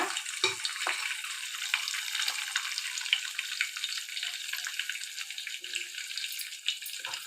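Coconut rice roasting in ghee in a pan gives a steady, close crackling sizzle that continues without a break, with no voices over it.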